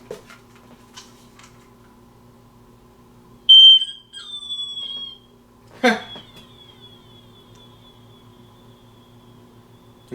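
Fire X smoke alarm from a home smoke detector collection giving a short high-pitched chirp-like tone, followed moments later by a brief sharp burst, against a quiet background with faint ticking hum.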